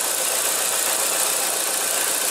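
A 2015 Nissan Versa engine idles steadily with a constant, even hum and no talking over it.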